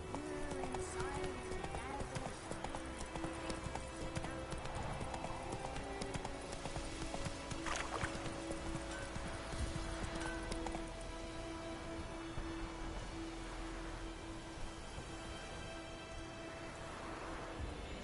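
Rhythmic hoof clip-clop of a horse galloping in The Witcher 3, a steady pounding beat running under ambient rain-like hiss and a voice, moderately loud and continuous.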